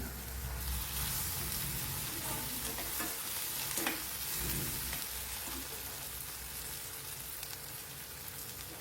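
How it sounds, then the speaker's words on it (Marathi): Coriander, tomato and onion sautéing in oil for an aubergine-potato curry make a continuous crackling sizzle, with scraping stirs from a spoon partway through and no talking. "ते कोथिंबीर, टमाटा आणि कांदा हे तेलावर छान परतून घ्यायचे अशा पद्धतीने."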